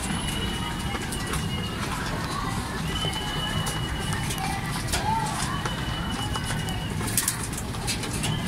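Racing pigeons cooing at their loft after a training flight from Gapan, Nueva Ecija, caught in the rain; soft repeated coos over a constant wash of background noise, with people talking now and then.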